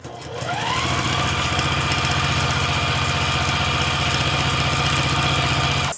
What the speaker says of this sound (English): I'm just going to sew these strips down at 1/4 inch, right sides together